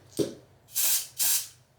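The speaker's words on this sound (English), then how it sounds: "I'm gonna just go ahead and spray it." Brown colour spray applied to a frontal wig's hairline: one soft thump followed by two short, close aerosol hisses of about half a second each, with quiet pauses between them.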